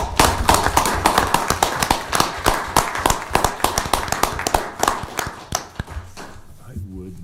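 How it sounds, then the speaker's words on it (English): Dense, steady applause from a crowd at a county board of commissioners meeting, many hands clapping at once, fading out over the last second or so. "I think we owe them a round of applause."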